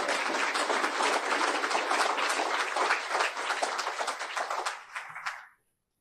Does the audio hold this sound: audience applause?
yes